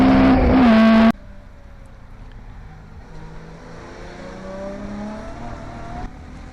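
Saloon race cars, a Mazda RX-7 and a Ford Escort, racing on a track in the Blue Oval Saloon Series: a loud engine burst at first, then distant engines droning and rising in pitch as cars pass.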